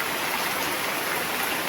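Heavy rain pours down in a village, making a dense, steady, close hiss of drops on surfaces. It is continuous throughout, with no voices.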